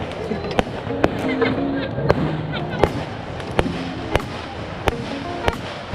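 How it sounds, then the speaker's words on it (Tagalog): Fireworks crack and pop at a riverfront campsite during a family birthday gathering, sharp bangs every half second or so at middle distance, with people talking throughout. "May fireworks pa tayo, guys!"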